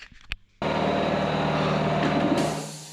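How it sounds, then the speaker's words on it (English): An air compressor in a garage workshop kicks on after a brief clatter and runs as a steady, fairly loud motor drone for the rest of the moment. "The compressor's stopped."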